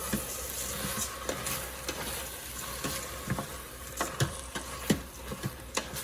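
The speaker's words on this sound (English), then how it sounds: "Let's give this a stir." Rice being stirred for Cajun chicken and sausage jambalaya in a hot Instant Pot, a soft sizzle with scattered scraping knocks of the spoon against the pot, close and fairly quiet.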